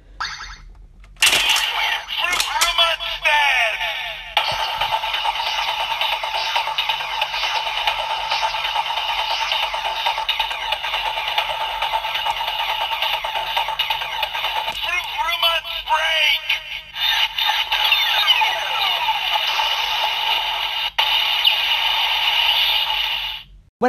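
A Kamen Rider Build DX Full Bottle Buster toy weapon plays its electronic sounds with a Full Bottle inserted: a loud, continuous stream of bright synthesized tones and music lasting the whole stretch, with a few brief clicks and breaks.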